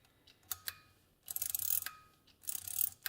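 A piston gudgeon pin being drawn out with a threaded pin puller into a copper receiver in a workshop: several sharp metallic clicks and ratcheting bursts, close by, with quiet pauses between turns.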